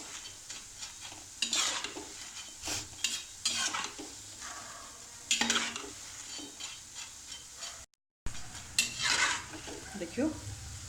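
Makhana boondi frying in ghee over low heat, stirred with a slotted ladle: steady sizzle with repeated scraping, clinking stirs of a metal spoon against the pan, close and moderately loud, with a brief break partway through.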